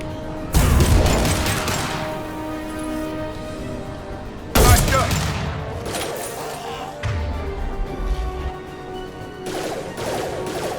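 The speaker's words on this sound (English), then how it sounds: "Firing an impact shot!" Heavy impact weapon blasts in Mass Effect 2 Legendary Edition: three separate booming shots, each a sharp crack followed by a long rumbling decay, with a softer thud between the second and third.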